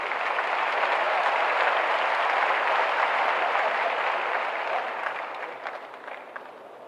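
Audience clapping at a police appointment-letter ceremony held by the chief minister, a loud sustained burst of many hands that holds steady and then thins and fades toward the end.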